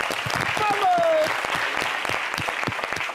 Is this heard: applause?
yes